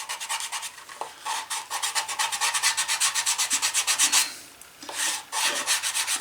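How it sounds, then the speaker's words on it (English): Rapid rhythmic rasping as a leather holster strap is sanded by hand, close and steady strokes in quick succession with a brief pause near the end before scrubbing resumes. "The strap is still kind of funky, so I'm going to sand that a little more."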